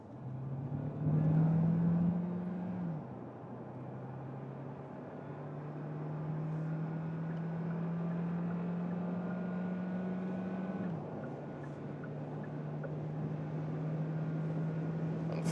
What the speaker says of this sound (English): Then the combustion engine is directly on and we can do an acceleration from 50 kilometers an hour to